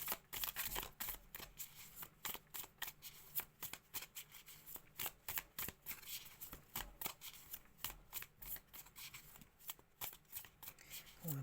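Playing cards being shuffled and falling in a slow riffle, a long series of sharp, crisp flutters and taps that keep coming at an irregular pace with short gaps between them, close and fairly quiet with no voices.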